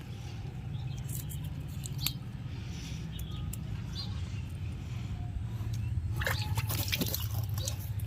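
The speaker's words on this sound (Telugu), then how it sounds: "సర్ఫ్ కొంచెం వేసుకొని డైల్యూట్ చేసుకొని మనం ఇలాగా శుభ్రంగా ఆకు మనం కడుక్కోవాలి." Hibiscus leaves being washed by hand in water mixed with a little diluted detergent, soft wet rubbing and dripping over a low steady hum, with sharper splashy handling toward the end.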